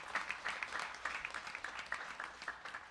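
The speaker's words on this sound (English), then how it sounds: "Let's give her a big round of applause." Audience clapping for Anita Anand at a Bhagwat Katha gathering, a fairly quiet, uneven patter of hands with distinct individual claps audible in a loose rhythm, continuing for a few seconds without speech.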